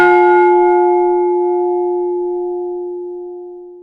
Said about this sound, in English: A bell tolls.